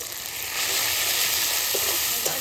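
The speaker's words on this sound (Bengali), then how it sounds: "ভালো করে কষিয়ে নিই একটু জল দিয়ে আমরা মশলাটা ভালো করে কষিয়ে নেব" Masala seasoned with salt, turmeric and Kashmiri chili powder sizzles steadily as it is stir-fried in a pan, a continuous loud frying hiss with soft scraping strokes, no voices.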